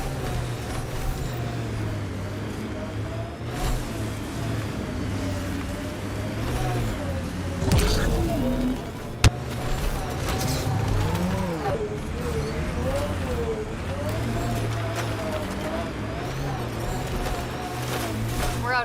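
The Nomad vehicle from Mass Effect: Andromeda drives through snow on a mountain, its engine droning steadily with shifting revs throughout, a brief sharp knock midway, while people talk over it.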